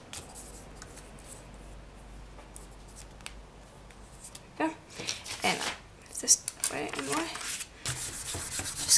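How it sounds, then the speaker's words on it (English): Polymer clay backing is burnished down onto a sheet of paper: quiet at first, then bursts of close rubbing and scraping strokes in an uneven rhythm. "Going to burnish that down onto the piece of paper so that our backing is nice and smooth"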